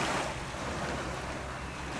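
Sea surf washes onto a beach in Magaluf, a soft continuous hiss of waves mixed with wind buffeting, fairly quiet with no voices.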